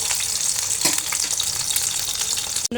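Two eggs frying in a pan at home, a loud continuous close sizzle with faint crackles, ending with a brief dropout.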